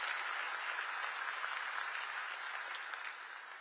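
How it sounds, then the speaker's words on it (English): A large audience at the FIFA World Cup Draw at the Kennedy Center applauds Maestro Bocelli, a dense, steady wash of clapping that holds evenly throughout and eases slightly at the end. "Can we clap hands for Maestro Bocelli once again?"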